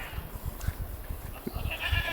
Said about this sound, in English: Something's happening with our goat right now. Sounds like she's giving birth